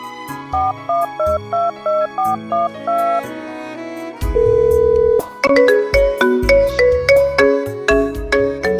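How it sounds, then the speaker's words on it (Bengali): Phone ringtone playing loudly and close: a repeating electronic melody in short pulsed bursts, then a sustained tone and a brighter chiming tune with a bass beat, with no talk over it. "বাড়িতে ফোন না করলে তো খুব চিন্তা করবে। আগে একটা ফোন করি।"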